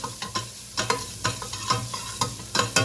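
A spoon scrapes and stirs black pepper and spices sizzling in a hot pot, with rhythmic clinks and scrapes about every quarter second over a soft, steady frying hiss.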